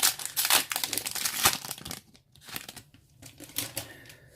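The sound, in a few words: Yu-Gi-Oh booster pack wrapper being torn open, crinkling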